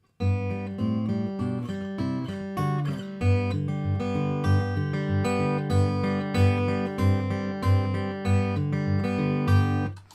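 Fingerpicked acoustic guitar through a processed pickup with a warm, rounded tone, individual notes rolling in a steady pattern, played alone and close.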